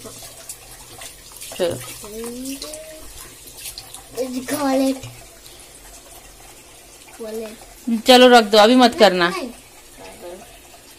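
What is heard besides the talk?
water running from a tap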